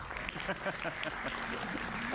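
Studio audience applause during a televised political talk show, a moderate, steady patter of clapping heard fairly quietly, with some voice sounds mixed in.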